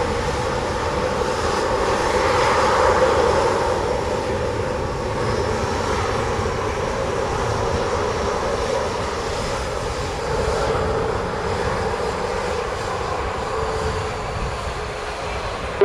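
An American Airlines airliner takes off from runway 07 at Montego Bay, Jamaica, with a sustained, heavy jet engine roar that swells early, then holds steady and loud throughout.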